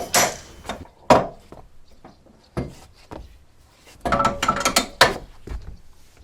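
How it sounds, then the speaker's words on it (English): Mast winch on a wooden wherry sailing boat being opened: irregular clanks, knocks and ratcheting clicks, close and sharp, bunching into a busier rattle near the end. "We then got to open the winch."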